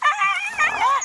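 A dog whimpers in a continuous high, wavering whine, close and fairly loud, with no clear barks in the moment.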